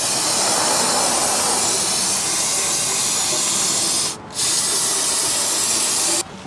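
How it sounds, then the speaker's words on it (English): Brake cleaner sprayed into the open differential housing of a Mustang during a fluid and gasket change, a loud, steady aerosol hiss running almost continuously, with a brief pause near the end. "Go and spray some more brake clean in there"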